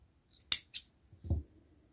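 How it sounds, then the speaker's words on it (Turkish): Scissors snip through crochet thread in a few quick, close, crisp cuts, separated by brief quiet gaps. "İpimizi koparalım. Ben makasımızla."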